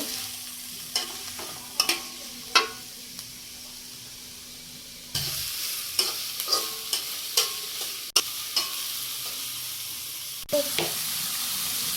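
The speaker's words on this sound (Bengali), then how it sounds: "পেঁয়াজ কুচি দিয়ে ভালো করে নাড়তে থাকবো" Chopped onions fry and get stirred in a pan for broiler chicken bhuna, making a steady sizzle with repeated clinks and scrapes of the spoon against the pan, a short break partway through, and no talking.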